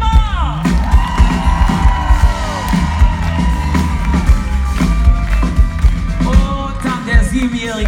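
Audience at a summer concert cheers, whoops and yells loudly for a twelve-year-old girl, over a steady rhythmic thumping beat, with a dense, continuous crowd roar throughout.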